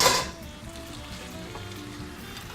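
Pasta is tossed into vodka sauce in a hot pan, opening with a short loud splash-like hiss that settles into a steady, moderate sizzle of bubbling sauce, with no talk.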